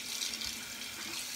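Water tap running into a sink for a rinse after shaving, a steady close hiss of flowing water heard alone.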